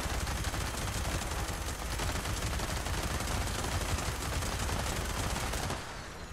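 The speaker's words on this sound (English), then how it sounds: "we are just gonna stand up and start firing at him." An explosive minigun in Fallout 76 fires in one continuous, dense roar of rapid shots and blasts for about six seconds, loud and unbroken before cutting off.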